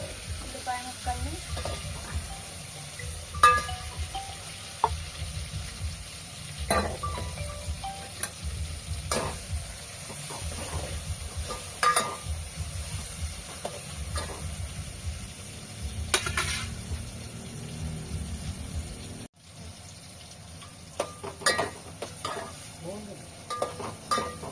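Onion pieces fry in a pan with a continuous close sizzle, broken by intermittent stirring scrapes and light utensil clinks, with a brief cut near the end.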